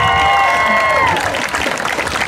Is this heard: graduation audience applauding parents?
yes